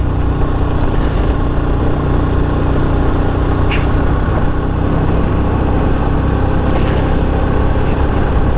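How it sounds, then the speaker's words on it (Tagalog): A motorcycle engine labors steadily as it climbs a steep mountain road, a loud, continuous mid-pitched drone with no let-up across the whole stretch. "Medyo hirap na yung motor natin umahon,"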